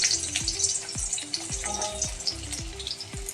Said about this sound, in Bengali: কড়াইতে আমি দিয়ে দিচ্ছি খুব সামান্য সর্ষের তেল, দিয়ে দিচ্ছি পেঁয়াজ।